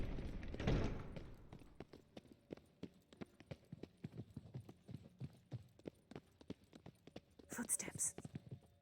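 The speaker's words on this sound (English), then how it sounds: "Footsteps." Footsteps in The Witcher 3: Wild Hunt, an even run of hard, close steps on a firm floor going on steadily throughout, with a voice at the start and again near the end.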